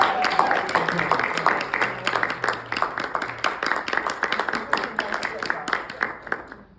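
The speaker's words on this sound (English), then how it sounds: "Let's clap once more." Audience applause for a visiting guest speaker at an evening talk, a moderate burst of overlapping hand claps that thins out and fades over several seconds.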